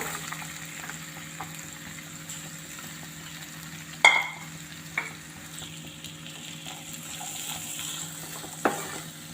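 Sliced onions fry in melted butter in a pan for butter chicken masala, a soft steady sizzle with a few sharp stirring clacks, close and quiet with no talk.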